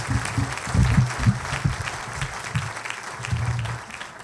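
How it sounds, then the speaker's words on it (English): Audience applause at a City Club event, with steady crowd clapping at moderate level over a low murmur of voices for several seconds. "Yeah, we should applaud."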